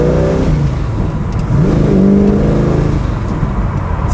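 A Ford GT40 race car accelerates hard while pulling out into traffic, its engine loud and close, with a rising rev sweep through the middle amid steady road roar.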